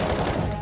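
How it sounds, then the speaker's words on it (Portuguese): A single sharp gunshot from the Counter-Strike video game rings out close and loud, its burst dense across the whole range and fading fast within a fraction of a second. "Pegar esse tiro, velho."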